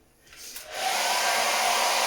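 A hair dryer on its lowest heat setting, used to dry a painting canvas, starts up and rises within a second into a loud, steady blowing whoosh that holds to the end.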